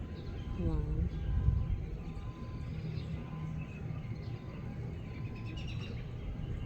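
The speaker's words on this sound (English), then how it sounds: "The birds freaking." Birds call outdoors with a few short chirps and warbles over a low rumbling background, fairly faint, while a person talks.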